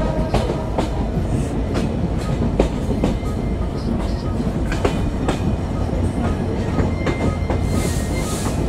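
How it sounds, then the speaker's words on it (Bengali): Simanta Express intercity train picking up speed on the rails between Jessore and Mobarakganj, a steady rumbling roar with rhythmic clickety-clack wheel beats close by, continuous throughout with no talk. "শেষ প্রান্তে গিয়ে কিছুটা গতি লক্ষ্য করছি আমাদের আন্তনগর আপ সীমান্ত এক্সপ্রেসে"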